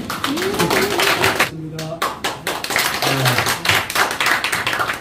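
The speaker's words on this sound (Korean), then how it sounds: "큰 박수 부탁드립니다" Scattered hand claps from the audience at a Korean literary talk event for a poets' association, sharp, close and irregular, mixed with people talking and calling out in the room.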